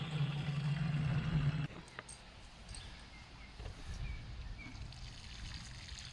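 Rainwater drawn from garden rain barrels trickles and splashes onto raised garden boxes, a soft steady dribble behind a louder low hum that cuts off early, leaving quiet outdoor ambience.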